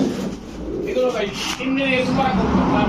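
Racer pigeons coo in low, rolling bursts while people talk nearby over them.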